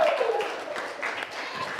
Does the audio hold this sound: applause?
yes